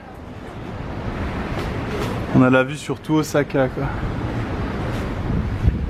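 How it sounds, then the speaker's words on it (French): Strong wind roars steadily across a high viewpoint overlooking Osaka, a constant gusty rush buffeting the microphone while a person speaks briefly over it. "C'est méga stylé mais il y a beaucoup de vent."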